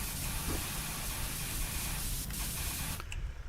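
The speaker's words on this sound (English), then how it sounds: "This wider spray is actually doing pretty good on the train so far." A pressure washer fires a wide spray at a train in the Power Wash Simulator video game: a loud, steady hissing rush of water that cuts out abruptly near the end, close and continuous with no talking.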